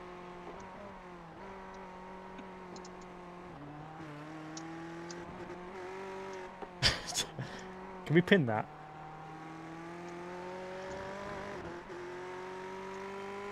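A race car engine in the iRacing simulator drones and shifts pitch steadily through a long endurance race, with a few sharp tire or contact bursts midway while a driver talks over it.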